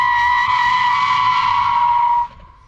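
A rally car brakes hard into a chicane on a training run, giving a loud, sustained tire squeal that holds steady for about two seconds and then cuts off abruptly, leaving only a low rumble.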